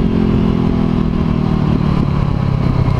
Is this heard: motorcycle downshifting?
yes